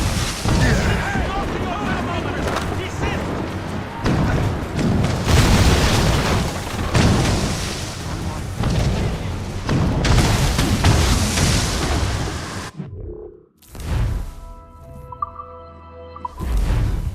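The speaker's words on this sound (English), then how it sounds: "Chevalier is using mortars to stop Shay." Mortar fire and explosions from the Assassin's Creed Rogue video game boom heavily and repeatedly, a dense loud barrage of blasts over rumbling battle noise that drops out briefly before another burst and scattered sounds.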